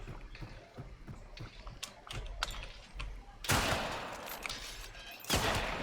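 Video game rifle fire crackles in a series of short bursts, faint at first and then two loud, broad blasts near the end, with no talking over it.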